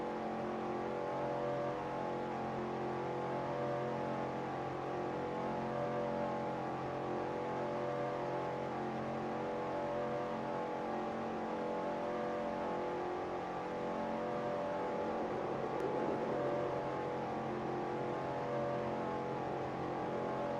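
Car engine bogging in fourth gear at low revs, a steady low droning hum held for a long stretch with no strong rise in pitch.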